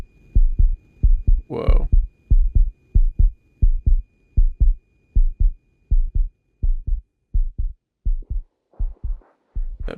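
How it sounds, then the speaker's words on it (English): A heavy, bass-laden heartbeat thumps in The Invincible, steady paired beats repeating through the whole stretch, loud and close, with a brief exclaiming voice near the start. "That bass of the heartbeat was really loud in my headphones."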